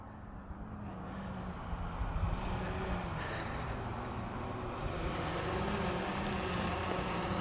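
A FireFLY6 VTOL drone flies overhead in wind, a steady droning rotor and motor hum that stays even and moderately loud throughout, with no talking.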